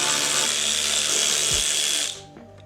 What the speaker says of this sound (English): I think I'm actually gonna try to unbolt the tank.